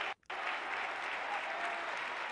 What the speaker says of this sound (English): The ironic applause